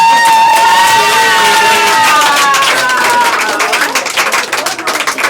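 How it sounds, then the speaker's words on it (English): A thunderous round of applause and cheering from the audience at a magic show at The Magic Castle in Hollywood, loud and sustained, with whoops over the clapping and music-like tones early on, fading toward the end. "Everybody's gonna give you a thunderous round of applause, Sheree."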